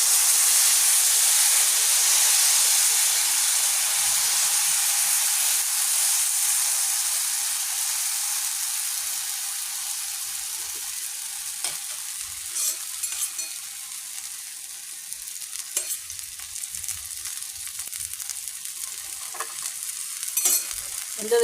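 Adai dosa batter, a single ladleful poured onto an oiled hot stone griddle, sizzles and fries loudly in a steady broad hiss that slowly eases and softens over the span, with faint scraping ticks near the end.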